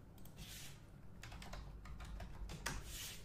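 Typing on a computer keyboard, a quick run of soft, close key clicks in an irregular rhythm, fairly quiet, with no voice.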